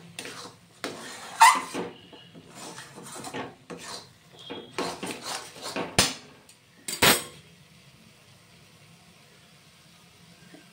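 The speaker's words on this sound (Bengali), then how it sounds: "ভালো করে নেড়ে চেড়ে নেব, একদম মিহি পেস্ট করে নেবেন" A spoon scrapes and rasps against a pot while amla paste for chyawanprash is stirred, giving irregular close scraping strokes with a couple of sharper knocks and quiet gaps between them.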